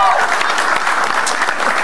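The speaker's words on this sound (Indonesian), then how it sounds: "Tepuk tangan dong buat Ridwan Rebin." Audience applause rings out for comedian Ridwan Rebin at an Indonesian stand-up comedy show, a dense, loud burst of clapping from a crowd that carries on steadily throughout.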